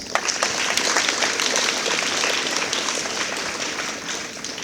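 Applause from a workshop audience honoring students at a university lecture event, a steady, dense wash of many hands clapping throughout, fairly loud and sustained without pause.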